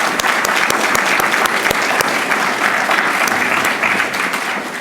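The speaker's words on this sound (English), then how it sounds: "can we just give a round of applause to all of our presenters?" An audience at a project show-and-tell event applauds its presenters with loud, steady clapping and some sharp nearby claps, easing slightly toward the end.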